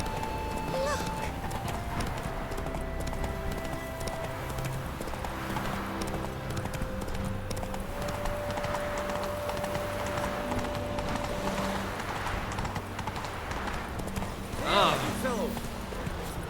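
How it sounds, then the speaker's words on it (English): In The Witcher 3, Geralt rides his horse Roach, with steady clip-clop hoofbeats running under game music and a voice, and a short whinny near the end. "Run, Roach."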